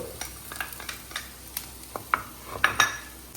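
Onion, beans and carrot roasting in a pan for fried rice, heard as a steady soft sizzle broken by clinks and scrapes of a utensil stirring against the pan, with a few sharper metallic taps near the end.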